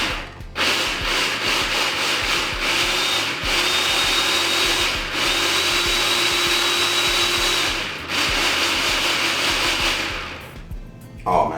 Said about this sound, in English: we'll drop this on the food processor